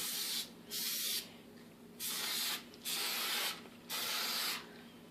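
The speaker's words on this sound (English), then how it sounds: "You have to go ahead and spray a non-stick spray on the sides of the pan." Non-stick cooking spray hisses from an aerosol can onto the sides of a cake pan in five short bursts, each about half a second to a second long, separated by brief quiet pauses.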